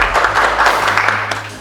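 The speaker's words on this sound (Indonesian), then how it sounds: "Tepuk tangan dulu biar semangat." A classroom of students breaks into short, fairly loud applause after a group presentation, the clapping dense at first and then fading.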